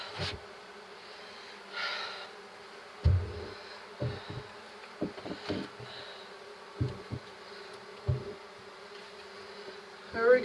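Honey bees buzzing close by during a hive inspection on a swarm, a steady droning hum broken by repeated soft bumps and handling knocks, with no talking.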